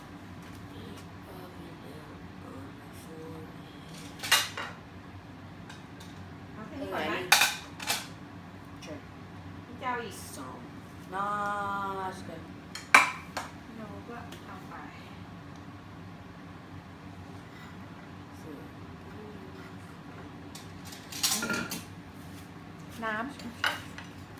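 Utensils scrape and clink against dishes while rice is scooped at a home meal, with sharp scattered clatters and a run of rapid metallic rattling under a low room hum, and people talk at intervals.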